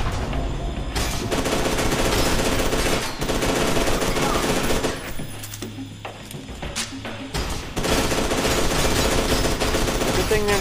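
Penetrator gun in the video game F.E.A.R. 2, dense rapid firing bursts that fill the mix loudly, broken by a brief lull before the shooting resumes.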